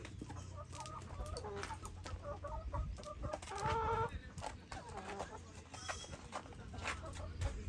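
Chickens on a farm, including hens being offered for sale as breeding stock, cluck repeatedly in short rhythmic bursts at moderate distance over steady background noise, with faint voices nearby.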